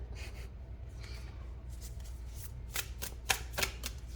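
Tarot cards riffle and slap together in quick bursts as they are shuffled, a few sharper flicks near the end, close and fairly soft.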